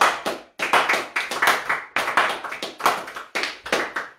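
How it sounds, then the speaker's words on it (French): Congregation at a French-language church service clapping together in rhythmic bursts, several loud rounds of hand claps separated by brief pauses, close and clear with no talking. "est-ce qu'on peut applaudir pour Jésus?"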